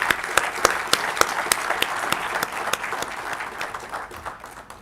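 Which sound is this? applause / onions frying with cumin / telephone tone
applause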